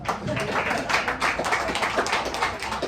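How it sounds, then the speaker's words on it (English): A room of Democratic club members at a monthly meeting claps in a round of applause, a dense wash of hand claps running steadily from start to finish, with no talking over it. "Give a round of applause for our maker."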